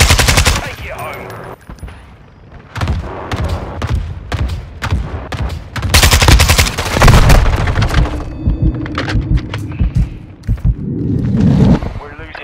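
Rapid automatic gunfire from a Zastava M93 Black Arrow and a Zenitco AKS-74U in Modern Warfare II, loud bursts and heavy booming shots over continuous battle noise, with game voice callouts mixed in.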